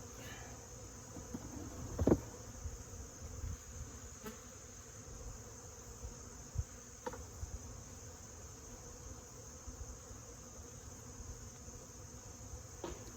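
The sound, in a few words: honey bees buzzing at hive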